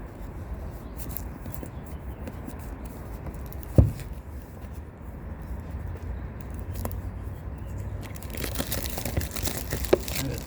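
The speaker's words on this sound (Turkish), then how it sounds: "poşetini yırttık" A plastic package bag around an AliExpress parcel holding a Sansui F-26 radio is torn open by hand, close crinkling and rustling with a sharp snap partway and a louder tearing burst near the end.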